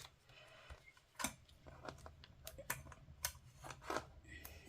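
Scissors snip through Hobonichi Cousin planner pages in a series of short, crisp cuts, several quick snips spaced irregularly at close range, with faint room noise between them.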